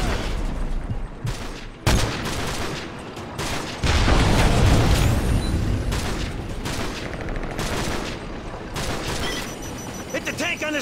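Dense gunfire and heavy automatic bursts from A-10 gun runs in the Call of Duty Modern Warfare 3 Scorched Earth mission, loud rattling volleys and booms filling the scene with shouted voices mixed in.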